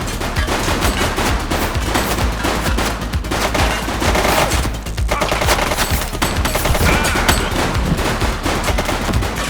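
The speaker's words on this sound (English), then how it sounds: "She's shooting!" Gunfire in The Precinct police video game, dense bursts of automatic shots crackling almost continuously, loud and close, with a brief lull midway.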